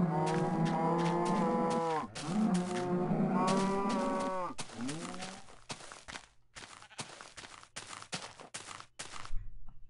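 Cows in a video game moo repeatedly, with several long, drawn-out calls over the first five seconds, followed by a run of shorter, rhythmic thuds like footsteps or clopping, all fairly close and clear with no talking.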